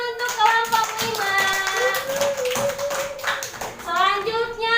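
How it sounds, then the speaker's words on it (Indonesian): Classroom applause for a student group, children clapping together in a bright, close room, uneven and lively, mixed with kids' voices and sung or chanted tones throughout. "Tepuk tangan untuk kelompok 5."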